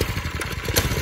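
A Predator 212cc small engine on a mini bike cranks and runs roughly, a rapid uneven low chugging pulse that stays close and fairly loud throughout.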